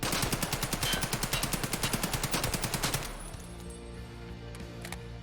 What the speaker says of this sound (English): The AKM shoots so slow that it is easy to control the recoil with this gun